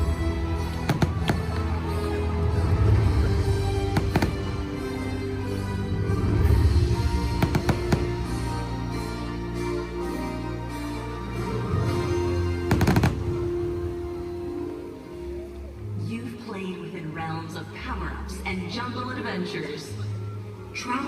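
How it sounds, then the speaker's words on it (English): A nighttime fireworks show at the Epic Universe theme park, with repeated loud booms and crackling bursts over a swelling musical soundtrack and crowd noise, including a sharp blast partway through, then a thinner run of pops. "Here it comes. First fireworks."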